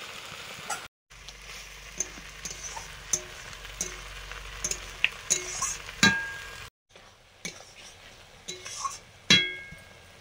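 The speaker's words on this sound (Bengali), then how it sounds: "এবারে নুন আর লেবুর রস মাখানো মাছগুলো দিয়ে দিলাম।" Bombay duck fish marinated in salt and lemon juice sizzles in a fried paste of ginger, garlic, turmeric and Kashmiri chili, a steady close frying hiss broken by frequent sharp metal clinks of a utensil against the pan.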